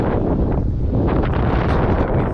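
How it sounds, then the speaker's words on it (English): Strong wind buffets the microphone with a steady, loud roaring rumble throughout at Rowena Lookout in spring. "Pretty windy up here."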